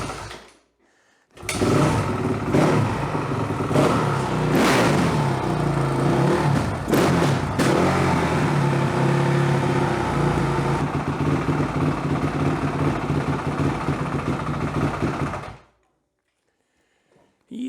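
A carbureted engine running after the choke, idling, a loud steady rumble with a few sharp knocks early on, then cutting off abruptly near the end, no talking.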